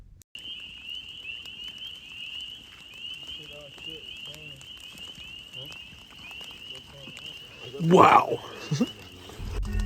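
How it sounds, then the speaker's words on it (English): Spring peeper frogs calling during a Midwest rainstorm, a continuous high piercing chorus of peeps over pattering rain, with a person briefly exclaiming partway through. "This is the spring peeper, the frog that signals the onset of spring."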